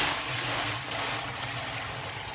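Water pouring into the open tub of a Kenmore/Electrolux/Frigidaire dishwasher over the heating element: a steady, close rushing splash with a faint low hum underneath, continuous for a couple of seconds with no talking.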